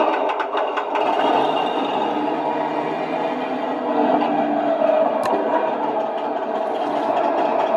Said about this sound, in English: I'm going to restart the engine.